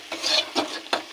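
Ginger, garlic and onion paste with biryani masala is stirred in hot oil for chicken biryani, giving three short, close scraping strokes over a soft sizzle.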